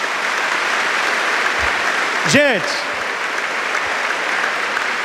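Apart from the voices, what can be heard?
applause from church congregation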